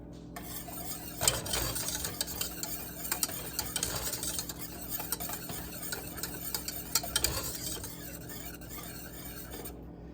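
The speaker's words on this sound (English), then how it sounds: "It didn't say to stir constantly, but I don't want anything sticking, so I'm going to stir it." A spoon stirs a gummy candy mixture in a pot, scraping and clinking against the sides. The quiet, uneven strokes repeat close by with no voices.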